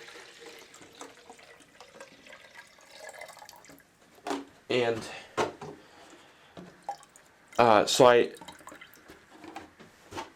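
Distilled water poured from a small container onto tomato transplants makes short bursts of trickling and splashing, two stronger pours standing out. A person talks softly between them.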